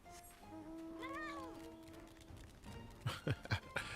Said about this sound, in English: I like that it meows every time.